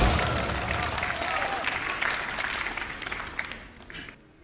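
Audience applause fills a stage show, a dense wash of clapping that holds steady, then thins and fades out near the end.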